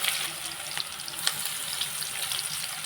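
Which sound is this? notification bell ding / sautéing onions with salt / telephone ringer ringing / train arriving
sautéing onions with salt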